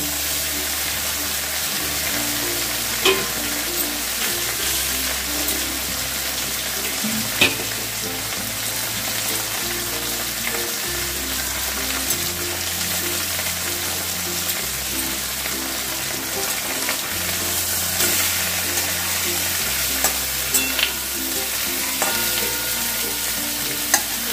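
Prawns fry lightly in hot oil with a continuous, even sizzle close by, marked by occasional clicks of stirring and a low hum running steadily underneath.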